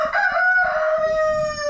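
A rooster crows on a farm with other chickens clucking nearby, one drawn-out call close and fairly loud over low background noise, with no talk.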